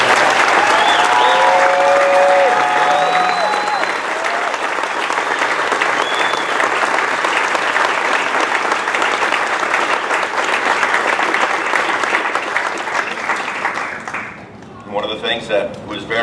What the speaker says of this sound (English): Let's give a really good round of applause to the first responders who do respond for anything